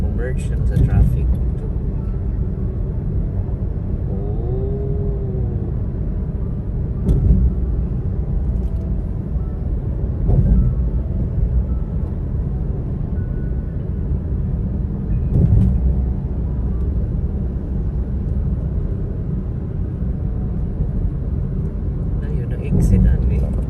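Steady broadband rumble of cars in expressway traffic crossing the Cebu-Cordova bridge, continuous road and engine noise throughout with a few louder passing swells, and someone speaks over it.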